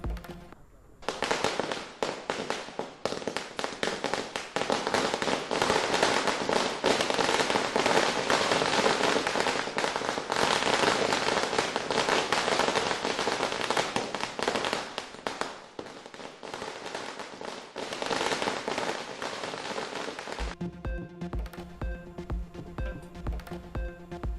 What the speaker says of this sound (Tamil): வண்ண வண்ண பட்டாசுகளை வெடித்து மகிழும் மக்கள்